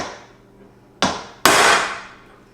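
Two sharp, loud metallic hammer blows close by, peening a HAGz Beaver rod end. The second strike follows about half a second after the first and rings out longer as it fades, with no talk.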